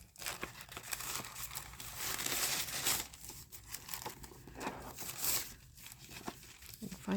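Hands rummage through scraps of crinkly vellum paper that feel like tracing paper, with close, continuous rustling and crumpling at a quiet level, broken by brief pauses.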